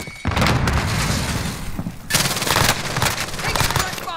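In the Warzone video game, a frag grenade explosion and gunfire make a loud, dense stretch of booming and rapid shots that barely lets up. Players' voices sit underneath.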